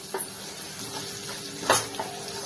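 A soft continuous sizzle of grated ginger sautéing in a pan, with a couple of quick utensil scrapes and taps as it is stirred.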